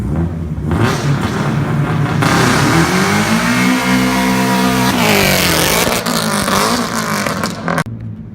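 A Subaru BRZ running on E85 revs loudly and pulls hard in a launch, its pitch rising steadily as it accelerates, then cuts off abruptly near the end.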